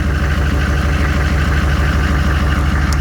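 A dually truck's engine idles after a cold start on a 30-degree morning, holding a loud, steady low rumble with an even vibrating pulse and no change in pitch, no voices over it.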